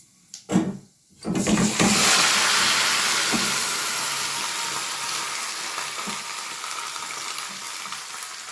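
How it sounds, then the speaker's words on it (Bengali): Roughly chopped tomatoes drop into hot oil with fried panch phoron for a Bengali tomato chutney. A couple of soft knocks come first, then a loud, close sizzle erupts and settles into a steady frying hiss. "পাঁচ ফোড়ন ভাজা হয়ে গেলে আমি এই রাফলি চপ যে টমেটো সেটা আমি দিয়ে দেব।"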